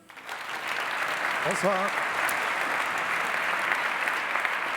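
A seated audience at the Prix SVC Genève 2025 event applauds a speaker, dense, even clapping sustained from start to finish, with a brief greeting spoken over it.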